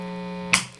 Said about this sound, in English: So immediately when I go to single coil, you can really hear the hum increase